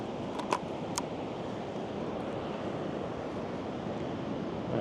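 Ocean waves roll onto the Oregon coast in a steady broad wash of surf with wind noise, plus a few brief clicks near the start.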